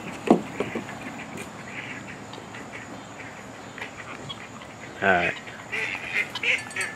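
Ducks quack in short bursts nearby over a quiet outdoor background, with a person's voice briefly speaking.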